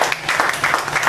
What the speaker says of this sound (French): Il faut applaudisser à Dieu.